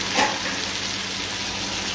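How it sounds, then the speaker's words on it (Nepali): Chopped onions frying in a pan for a chickpea curry, sizzling steadily and close, with a brief stirring scrape at the start and no talk. "त्यसपछि अब काटेर राखेको टमाटर हाल्ने"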